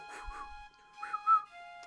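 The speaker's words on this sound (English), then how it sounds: "What the hell was that whistle then?" A clean, tonal whistle from the Ape Escape game soundtrack sounds in several short phrases with gaps between them, set over a faint steady sustained tone and a brief low rumble.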